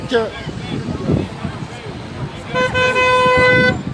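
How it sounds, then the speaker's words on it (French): Car horns honk repeatedly amid a noisy crowd with people talking at a rally against the health pass in Lanester, France; a long sustained blast dominates near the end. "En tout cas, ça klaxonne, hein, comme à chaque fois."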